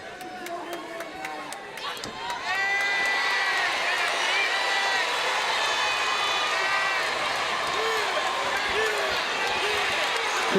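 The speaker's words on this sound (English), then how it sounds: "The crowd is losing its collective mind." Loud arena crowd at a women's MMA bout between Ariana Melendez and Arianna Cruz, cheering and whooping steadily and swelling after a couple of seconds into a sustained roar, with a commentator's voice underneath.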